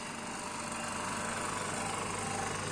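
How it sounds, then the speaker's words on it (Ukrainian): A pump running in a neon sign workshop, giving a steady, close mechanical hum that stays even throughout, with no talking. "насос працює"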